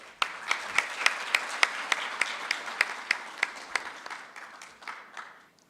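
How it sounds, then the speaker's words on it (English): An audience gives a round of applause welcoming Dr. Choue, steady clapping that starts quickly, holds for several seconds and fades out. "Please welcome Dr. Choue with a round of applause."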